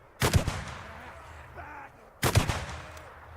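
Two loud gunshot bursts ring out in the video game Days Gone, each a sharp crack followed by a decaying echo, separated by about two seconds of quiet.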